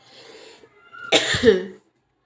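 A single harsh cough from a woman with a cold bursts out close by, preceded by a faint breathy sound, then silence.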